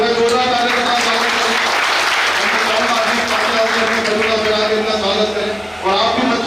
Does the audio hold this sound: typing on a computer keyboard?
no